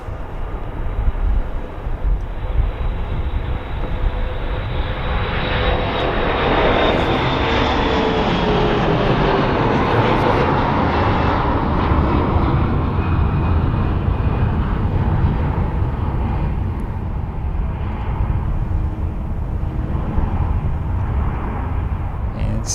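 An airliner takes off at Charlotte Douglas Airport, its jet engine roar swelling to a loud, sustained rumble that dominates before slowly easing as the aircraft climbs away.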